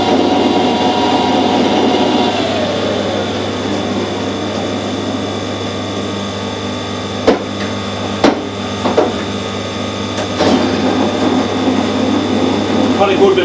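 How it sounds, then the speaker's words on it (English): The main motor of a Harrison 140 metric lathe, a three-phase machine fed by a rotary converter, runs with a steady loud hum and whine, joined later by a few sharp knocks and clicks. "That's a main lathe motor running."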